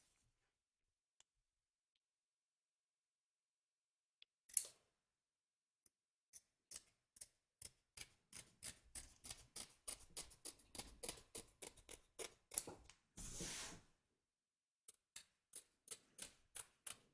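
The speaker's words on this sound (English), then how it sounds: "Trim away the excess fabric from both back and front of your hoop" Scissors snip away excess embroidery fabric around a hoop, back and front, in a steady run of quiet, crisp clicks. Short pauses break the run, and one longer rustle of cloth comes in the middle.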